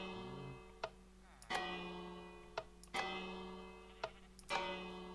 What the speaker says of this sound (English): that's the sound that the bell is going to make when it gets rung